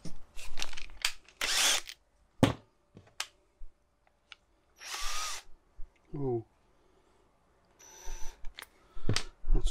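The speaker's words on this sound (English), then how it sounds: "Which means I have to drill a hole just to get it started." A power drill boring a starter hole for a split charge relay install in a VW T4 van, several short whirring bursts separated by pauses, close up, with brief handling clicks between.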